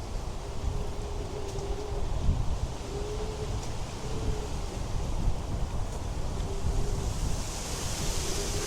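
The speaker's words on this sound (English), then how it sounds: "it's because it's so windy" Strong, steady wind roars and buffets the microphone in an open park on a cold, sunny day during a bike ride, a continuous low rumbling gust with hissing air and no voices.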